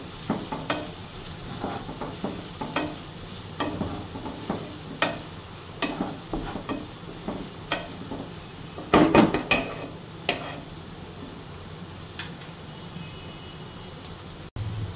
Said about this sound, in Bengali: পেঁয়াজটা ভালোভাবে ভাজা ভাজা করে নেব।